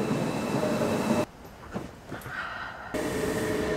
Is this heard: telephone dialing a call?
no